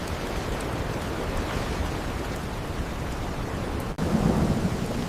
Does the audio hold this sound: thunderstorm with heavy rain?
yes